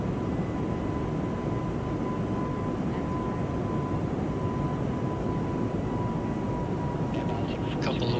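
Engines of an Airbus A220 airliner hold a steady, broad roar on departure in Microsoft Flight Simulator 2024, with a faint constant tone over the rumble and no break throughout.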